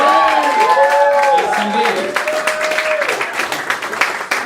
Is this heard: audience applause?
yes